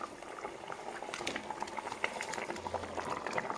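Broth with pointed gourd and spices bubbles in a pan as it comes to a boil, a continuous close burble of popping bubbles at moderate volume.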